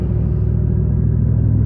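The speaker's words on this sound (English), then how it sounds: "And then it goes into a constant grumbly noise." Worn front differential bearings grumbling while a car drives, a loud constant low rumble with a steady droning hum throughout.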